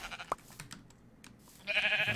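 A sheep in Minecraft gives a short bleat near the start, followed by soft clicking and then a louder burst of game noise toward the end.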